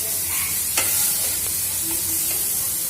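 A spice paste of ground coriander, cumin, ginger paste and green chilli paste fries in a pan with a soft, continuous sizzle and a few light scraping stirs, heard up close with no talk.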